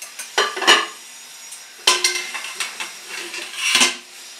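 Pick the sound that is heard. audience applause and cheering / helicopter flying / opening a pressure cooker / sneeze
opening a pressure cooker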